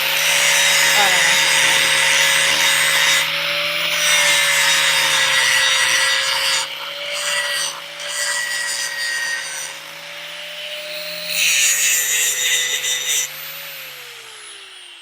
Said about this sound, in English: Turn that around. And we'll bevel the other side.